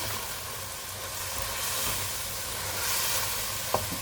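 Cabbage sautéed with shrimp and tofu stirred in a pan, a steady close sizzle and frying hiss running throughout with a brief sharp scrape of the utensil near the end.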